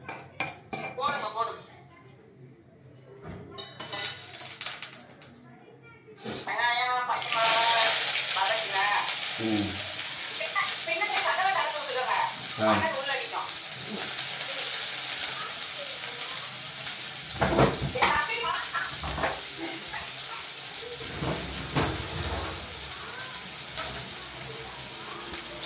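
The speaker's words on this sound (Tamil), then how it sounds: "சரி சரி, வெங்காயத்தை போடுறேன்." Chopped onions go into hot oil in a pan for tomato chutney, setting off a strong, steady sizzle, with a spoon scraping and clanking against the metal pan as they are stirred.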